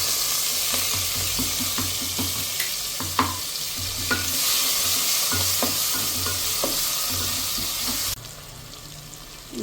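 Onion and curry leaves sizzle and fry in a pan while a spoon stirs them in repeated scraping strokes, a steady close hiss that drops off near the end, with no talk.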